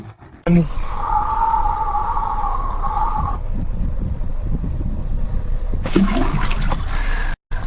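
Water splashes and gushes in a sandy desert setting, a steady rushing wash lasting several seconds, then breaking into a closer burst of splashing near the end.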